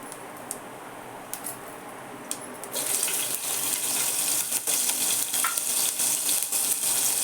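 Cumin seeds hit hot oil and break into a loud, continuous sizzle and crackle close by, after a few seconds of quieter scraping and light taps.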